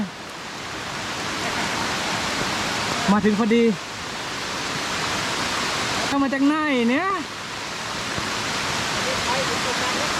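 Rain falling during a trip to a waterfall, a constant broad hiss running through the whole stretch, with someone speaking briefly over it and a couple of short tonal sounds rising above the downpour.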